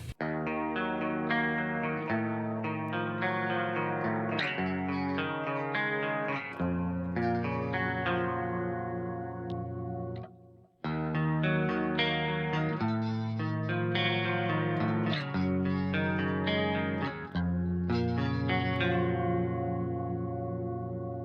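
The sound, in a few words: clean electric guitar on bridge pickup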